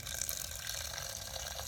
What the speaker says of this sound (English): 3 to 4 cups of hot water over the herbs like this